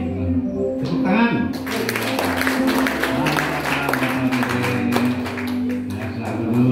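Applause from a church congregation welcoming a first-time visitor at a Sunday service, a dense wash of clapping filling the room for several seconds with voices and background music mixed in.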